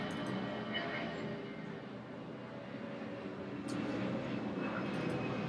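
An airplane drones overhead above a quiet residential street, a steady low rumble that stays faint and unchanging for several seconds with a few light clicks nearby.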